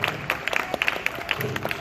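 A small audience claps at a comedy magic show after a stunt, with scattered, uneven claps close by and light crowd noise underneath.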